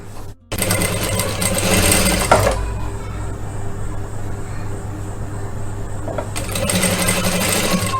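An electric sewing machine stitches a blouse in bursts, a fast loud mechanical whirr that starts after a brief click, pauses in the middle, then resumes.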